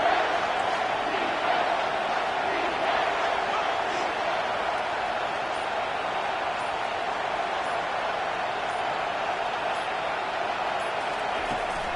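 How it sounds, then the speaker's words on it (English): Stadium crowd at a UCF college football game roaring steadily during a red-zone defensive stand, a broad, continuous wash of cheering that holds constant throughout. "the crowd coming to life here, trying to help this defense down in the red zone"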